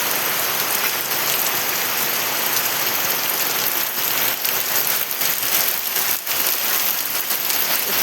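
Steady rain falls throughout, a dense close hiss of drops striking surfaces outdoors, continuous and loud with no voices.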